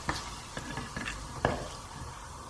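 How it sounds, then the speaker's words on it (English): Cumin seeds and a bay leaf fry in hot oil, stirred with a utensil that scrapes and taps the pan several times over a low crackling sizzle, close and fairly quiet. "cumin seeds, and a bay leaf. Mix that through for about 2 minutes till they release all their beautiful aroma."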